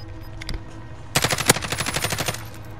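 Automatic gunfire in an online multiplayer shooter match: a single shot, then a rapid burst of about a dozen sharp reports, fairly close and loud.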